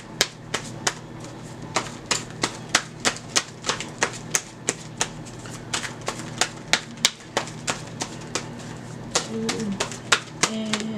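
Oracle cards from the Angels of Atlantis deck are drawn and shuffled in a quick run of crisp, sharp snaps and flicks that repeat steadily throughout, with faint background sounds and a brief murmur near the end.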